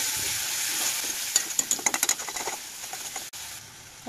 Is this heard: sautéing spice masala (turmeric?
yes